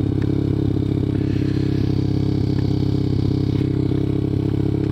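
Small 190cc ZS engine in a Honda Grom clone motorcycle, heard while riding: a steady, loud, close single-cylinder drone with dense harmonic buzz and light mechanical clatter, held constant throughout with no talk.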